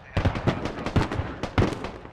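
Smoke mortar rounds firing in the military shooter Squad, a rapid run of sharp thumping launches about every quarter second, close and punchy over a low background.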